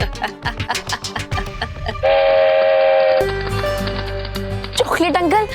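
A toy chocolate train chugs along with a rhythmic clatter and sounds a steady, loud horn tone for about a second, then busy music and scattered voices take over.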